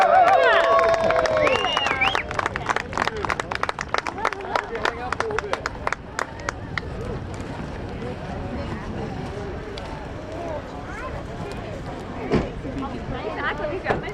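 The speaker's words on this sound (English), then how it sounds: "how about a big round of applause for us?" Airshow crowd clapping and applauding the USAF Thunderbirds team, a dense, steady patter of many hands with crowd babble and shouting voices mixed in throughout.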